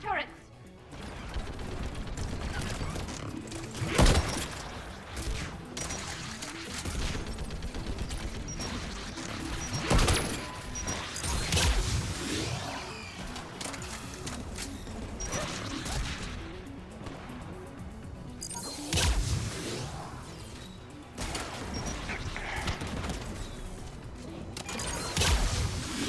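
Gas turrets firing in a Mass Effect Legendary firefight, a dense, continuous stretch of game combat with repeated sharp bursts and crashes layered over a busy mechanical din, loud throughout.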